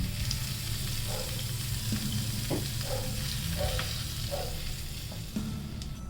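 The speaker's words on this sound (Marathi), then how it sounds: "आणि थोडासा हिंग तडका या चटणीला देऊया" An asafoetida and red chilli tempering for a South Indian style chutney sizzles steadily and fairly loudly, with soft scraping and clinks of stirring throughout and no talking.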